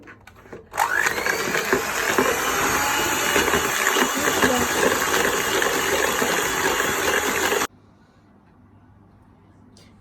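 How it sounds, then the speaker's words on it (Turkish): An electric mixer beating cake batter whirs loudly and steadily for several seconds, then cuts off abruptly into quiet. "mikserin qabında çaldıq bunları."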